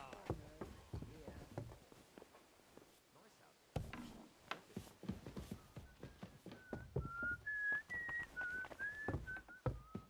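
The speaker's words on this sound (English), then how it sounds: "Are you whistling" A character whistling a short melodic tune in the video game Kingdom Come Deliverance 2, clear rising and falling notes in the latter half, following footsteps and clopping sounds and mixed with speech.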